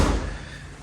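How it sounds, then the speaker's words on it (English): A door in a large house closes with a single soft thud at the start that fades quickly into quiet room tone. "Let's go ahead and close this door"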